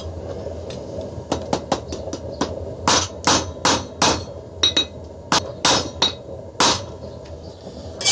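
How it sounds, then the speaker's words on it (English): Hammer blows on 1/4 inch round steel over an anvil ring out as sharp metallic clinks, about a dozen strikes in an uneven rhythm, close and loud against quiet background. "as I'm hammering it is rotating it 90 degrees"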